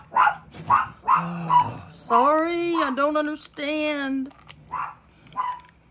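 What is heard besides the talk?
dogs barking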